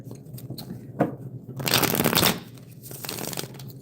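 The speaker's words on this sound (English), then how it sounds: "Let me shuffle these some more." Playing cards being shuffled up close, with a few riffling bursts and a longer loud flurry of card flutter in the middle.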